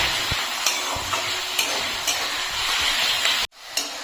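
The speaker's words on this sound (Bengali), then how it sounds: "ফোড়নটা ফুটে গেলে আমি দিয়ে দিচ্ছি পেঁয়াজ কুচি। পেঁয়াজটা এখন ভালো করে ভেজে নিতে হবে।" Chopped onion frying in hot oil tempered with garam masala, cardamom, cloves and cinnamon, a dense continuous sizzle with periodic stirring scrapes, cutting out abruptly near the end before resuming briefly.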